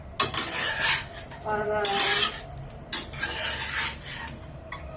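A utensil stirs a food mixture with white sesame seeds in a pan, giving scraping, clinking strokes in uneven bursts, close and fairly quiet, with a faint sizzle underneath.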